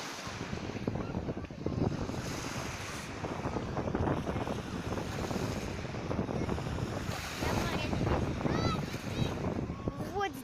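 Sea waves washing onto the Crimean shore, a continuous wash of surf with rising and falling swells, mixed with heavy wind buffeting the microphone throughout.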